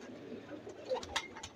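Pigeons in a loft, both a local desi breed and a high flyer, coo softly in low, throaty bursts over a noisy background. The calls are faint and close together, with a few short sharper sounds near the end.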